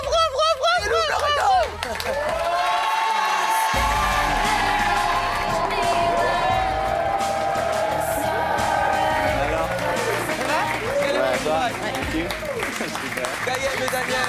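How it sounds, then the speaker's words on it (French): A TV studio audience applauds and cheers loudly and continuously, with whoops rising over the dense clapping, while a presenter's voice cuts in under the noise. "Arrêtez les applaudissements"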